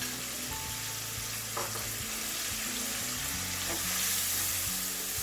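Lamb and chicken mince with black pepper and mixed spice powder sizzles steadily in a karahi pan while being stirred, a dense constant fry with faint scraping.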